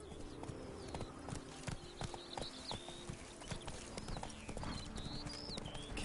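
Roach, Geralt's horse in The Witcher III, gallops with a steady, rapid clip-clop of hooves on the ground, moderately close, under faint background music and ambient game sound.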